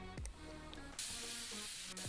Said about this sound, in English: so I'm blowing out dust here